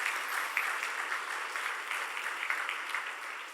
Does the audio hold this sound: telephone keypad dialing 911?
no